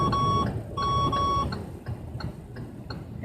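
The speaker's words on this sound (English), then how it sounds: "And that is my car beeping." A car's blind-spot warning gives short, bright electronic beeps in clusters of two, standing out over the low hum of driving, followed by fainter ticking chimes as the car rolls on.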